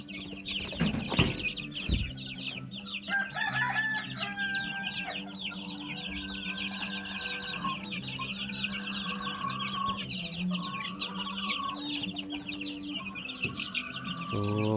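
Two-week-old native Darag chicks cluck and peep steadily while exploring a new environment, busy overlapping calls fairly close, with a brief louder knock near the start.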